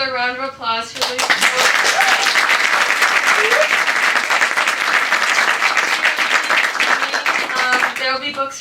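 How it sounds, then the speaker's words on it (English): An audience at a poetry reading breaks into sustained applause, a dense wash of many hands clapping close and loud for several seconds, with a voice speaking just before it starts and again as it fades. "Another round of applause for Lucy."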